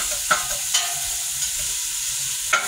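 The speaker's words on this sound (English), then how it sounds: "Let them fry." Raw vegetables for soup sauté and fry in a pan with a steady, close sizzling hiss, broken by a few brief stirring clatters.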